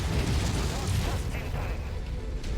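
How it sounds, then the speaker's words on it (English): An ammo explosion tears through a mech in the video game MechWarrior 5, a heavy booming burst with rumbling low end and mechanical clatter that decays over a couple of seconds. "Ammo explosion"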